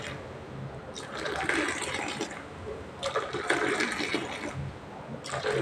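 A health mix drink poured back and forth between vessels to cool it, heard as repeated close, splashing streams of liquid in waves, each lasting a second or two.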